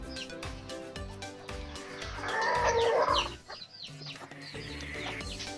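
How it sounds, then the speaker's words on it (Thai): Chickens cluck nearby with rhythmic sounds in the background, and a louder, drawn-out call rises in the middle before the clucking settles again. "เสียงแบ็เกราวด์ไม่ต้องตกใจนะไก่"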